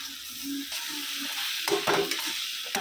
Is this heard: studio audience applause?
no